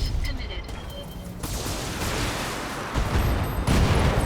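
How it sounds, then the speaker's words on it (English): An ammunition explosion in the Battletech mech game, a loud rumbling blast with crackling that swells and builds over the clip, heavy and close, with someone talking over it. "Ammo explosion."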